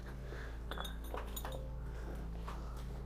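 Inside an abandoned French farmhouse, a glass wine bottle gives a few light, separate clinks and taps against a low, constant background hum; the sounds are faint and scattered rather than rhythmic.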